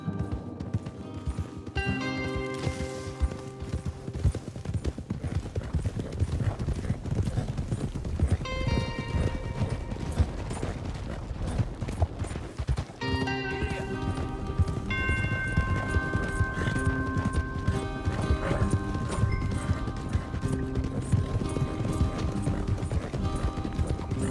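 Rhythmic hoofbeats of horses galloping in the video game Red Dead Redemption 2, steady clip-clop under a dense musical score, with an occasional whinny; loud and continuous throughout.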